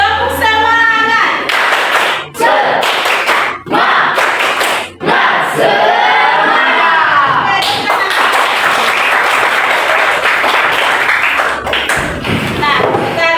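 A school class performs a rhythmic spirit clap chant led by a teacher, with loud group clapping in patterned bursts mixed with children's shouted chanting throughout, broken by a few short pauses.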